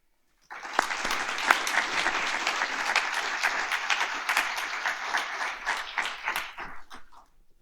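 Audience applause welcoming a speaker to a public talk on future challenges for the Great Lakes, a dense, steady clapping that starts abruptly, holds at an even level for about seven seconds, then tapers off.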